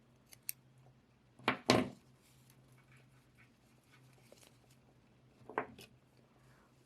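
Scissors snipping jute yarn during crochet work on a jute bath mitt, with a couple of quick, close, quiet cuts against a low background hum.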